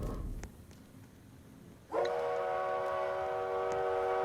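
In the Dead Rails video game, a train sounds a sustained, loud whistle tone after a quieter stretch of rolling train noise, and the whistle holds steady to the end.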